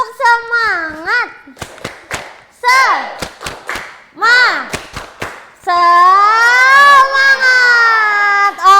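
Schoolchildren in a classroom lesson do a rhythmic spirit clap, bursts of sharp claps in patterned beats alternating with a teacher's voice and children chanting along.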